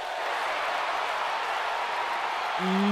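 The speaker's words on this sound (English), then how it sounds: "the crowd in Philadelphia is loving this one right now" Steady, loud crowd roar fills a WWE 2K19 wrestling arena during an NXT TakeOver event in Philadelphia, holding level throughout with a brief tone rising near the end.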